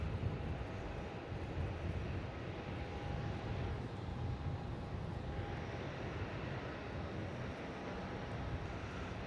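Qatar cargo aircraft pushing back at Melbourne Airport, a steady distant jet engine drone with a faint thin whine riding over it, continuous and even throughout with no voices.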